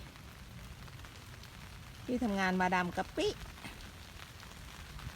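Rain falls outdoors among flowers as a faint, steady patter, with someone speaking briefly over it.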